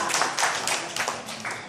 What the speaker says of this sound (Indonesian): Tepuk tangan buat saya dulu, Pak.